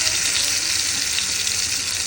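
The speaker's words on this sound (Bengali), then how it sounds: "এখন আমি মাছ ভাজবো," Hilsa fish fries in a pan with a steady, dense, hissing sizzle that stays even throughout, with no voices.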